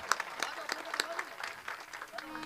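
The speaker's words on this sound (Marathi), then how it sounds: "टाळ्या वाजवा सगळ्यांनी" Audience at a devotional kirtan event held as a death-anniversary remembrance, clapping in scattered, uneven bursts, fairly close, with voices talking over and between the claps.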